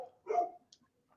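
A dog gives a single short bark, moderately loud and close, followed by a couple of faint small yips in an otherwise quiet room.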